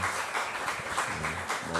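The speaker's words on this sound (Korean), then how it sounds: "한번 큰 박수로 격려와 박수 해주시면 좋을 것 같습니다" A church congregation at a Wednesday worship service applauds with dense, continuous clapping that fills the room at a moderate level and runs evenly throughout.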